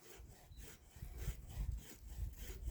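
A fine-bladed pull saw cuts through bonsai wood in steady back-and-forth rasping strokes, about a dozen quick passes, close and fairly quiet.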